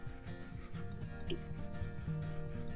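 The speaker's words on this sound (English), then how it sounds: "Now let's try drawing in Procreate just to see how the screen protector feels." Steady scratchy rubbing of an Apple Pencil-style stylus across an iPad Air's paper-like screen protector, continuous strokes with a rough, raspy grain, close and fairly quiet.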